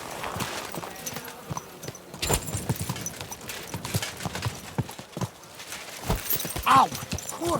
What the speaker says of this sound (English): Here's my beautiful horse.